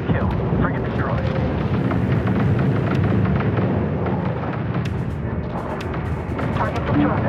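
Frigate weapons fire and explosions in the space strategy game Homeworld 3: dense, continuous booming and rumbling blasts with sharp cracks layered over each other, loud and sustained.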